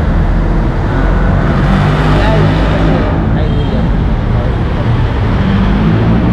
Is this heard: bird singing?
no